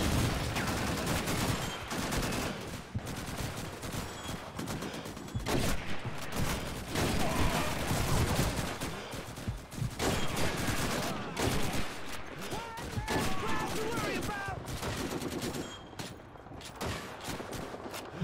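Machine gun fire in the World War II game Call of Duty 2, steady rattling bursts and scattered rifle shots filling a noisy battlefield, fairly close, with faint voices mixed in.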